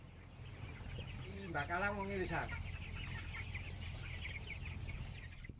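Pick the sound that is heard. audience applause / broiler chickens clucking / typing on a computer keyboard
broiler chickens clucking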